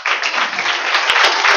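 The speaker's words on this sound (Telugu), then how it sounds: "ఇంకా గట్టిగా కొంచెం చప్పట్లు కొడదామా?" A church congregation at a Sunday anniversary service claps together, a loud, sustained burst of applause close by. A few sharper individual claps stand out near the end.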